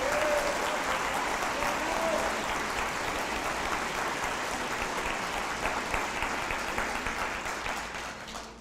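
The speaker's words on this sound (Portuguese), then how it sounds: "Aplauda ao Senhor" Sustained applause from a large church congregation during a sermon, steady and dense throughout, slowly tapering toward the end.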